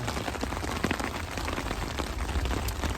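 Heavy rain drums steadily on a backpacking tent during a solo camping downpour, a dense close patter of countless drops with no talking.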